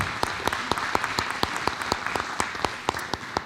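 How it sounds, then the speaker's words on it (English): An audience at a school board meeting gives a round of applause, a thin scattering of distinct hand claps in an uneven rhythm, moderately close and alone without speech. "give Cheyenne a round of applause"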